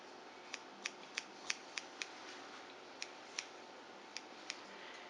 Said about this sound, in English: And it's gonna cut to give it texture.